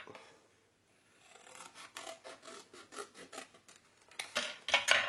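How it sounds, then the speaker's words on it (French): Paper being cut for a scrapbook mini album, a quiet series of short rasping snips and scrapes in an uneven rhythm after a brief pause, getting louder near the end, with no talking. "ensuite je viens couper"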